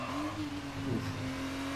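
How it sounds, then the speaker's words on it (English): An F2 race car in a video game, set at Abu Dhabi during qualifying, brakes hard and locks up its front left tyre: a steady, close engine drone with a brief rough scuffing burst near the middle. "Hard on the brakes there, locks up that front left"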